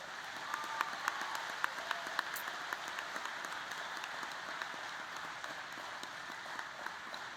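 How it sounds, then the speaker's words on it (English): An audience at the 96th Oregon FFA State Convention in Redmond, Oregon claps in steady, sustained applause, heard at a moderate distance with no voices above it. "please give yourself a massive round of applause for being here today"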